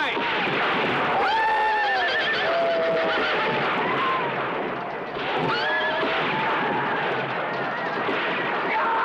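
Several horses neigh and whinny loudly during a Western gunfight, their shrill calls rising over a dense, noisy backdrop of commotion and hoofbeats.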